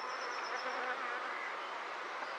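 Bees in a top bar hive left untouched for three years give off a soft, steady, dense buzzing hum, faint and continuous throughout with no voices.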